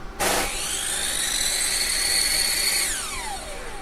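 A PUMA PM-1018TBS 10-inch 1800W table saw with no soft start or brake starts abruptly, whines at a steady high pitch for a few seconds, then winds down with a falling tone as it's switched off.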